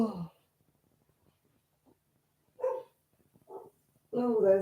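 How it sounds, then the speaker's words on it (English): A few short barks from a dog, spaced apart with quiet gaps between them, fairly close. "there's a doggy going barking"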